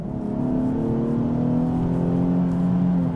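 Nissan 370Z with an automatic gearbox accelerating hard on kick-down, a loud steady engine drone with rising tones heard from inside the car, no talk.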